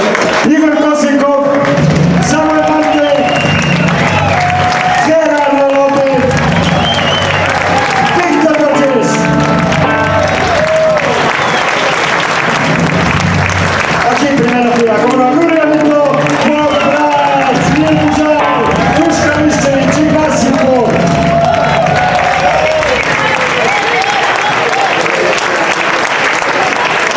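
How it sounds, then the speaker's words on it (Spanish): Loud, sustained applause and crowd noise at a blues concert honoring band members, continuous for the whole stretch, with music and voices blending underneath the clapping. "Uno por uno, un fuerte aplauso."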